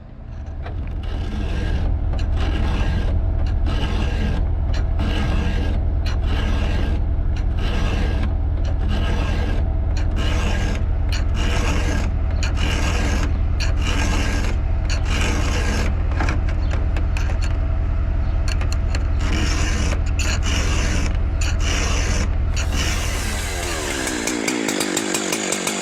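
Steady rhythmic strokes of a hand file sharpening a chainsaw chain, close and loud, repeating evenly for over twenty seconds before stopping, with no talk.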